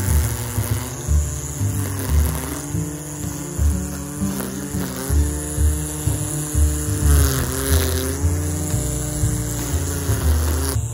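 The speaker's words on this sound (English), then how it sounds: "First, we will use the trimmer to cut around a tree." A RYOBI 18V ONE+ cordless string trimmer/edger, model P2008, cutting grass around a tree, a steady loud whine with a rising and falling pitch as the line meets the growth, continuous and close.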